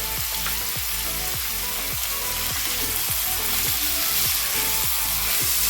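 Pumpkin being stir-fried with turmeric and salt in a pan: a steady, loud sizzle with repeated rhythmic scrapes of a spoon against the pan.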